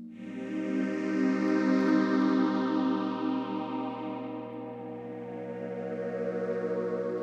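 Sustained modular synth drone passed through a Bad Stone phaser with the kick drum stopped, a steady harmonic tone that swells slightly and holds level without any pumping, heard alone.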